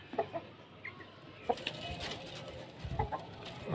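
Hens cluck in short scattered bursts while being fed bread, with busy chatter from pigeons and other background noise throughout.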